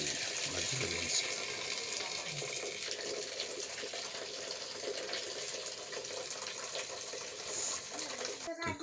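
Cooked rice being drained in a village kitchen, water pouring and trickling steadily through it for several seconds, with a voice talking nearby.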